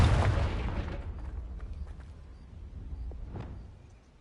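A Confringo blasting spell explodes in Hogwarts Legacy, a loud boom at the start that rumbles and fades away over a few seconds, with a faint smaller burst afterward.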